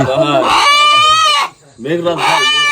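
A rooster crows loudly and close by, two long strained crows separated by a brief pause, with farmyard surroundings and no talk over it.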